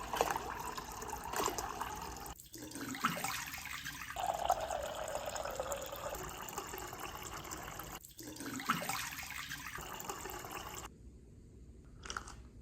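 Water dispensed from a refrigerator's water supply into a glass, a steady running trickle and pour with two brief pauses, close and fairly quiet, ending in near silence.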